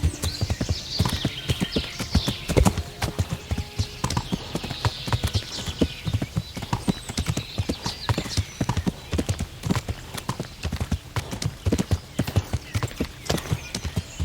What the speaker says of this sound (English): Let's build up some stamina for my horse.